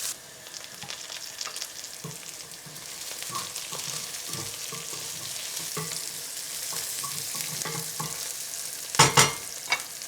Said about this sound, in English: Next, the onions. And I'm just going to give it 5 minutes to soften up and just start to get golden.